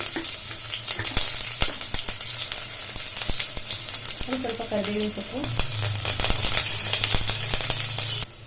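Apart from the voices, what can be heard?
onions frying in oil for double beans masala sambar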